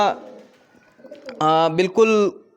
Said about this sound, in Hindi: तो बहुत सारे कबूतर इसमें आप देख सकते हैं कि बहुत सारे कबूतर जो नीचे बैठे